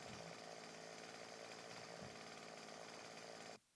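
A chainsaw in the video game 7 Days to Die drones loudly and continuously, with a brief rev change before it cuts off abruptly at the end.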